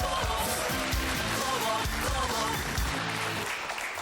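A studio audience at a stand-up comedy contest claps to welcome a performer onto the stage: steady, dense applause running the whole time over a low musical backing.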